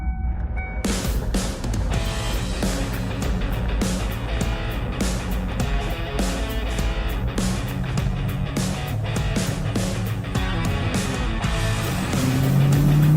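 A Panoz roadster's engine droning loudly and steadily from inside the car as it drives, with shifts breaking the tone and the revs climbing toward the end.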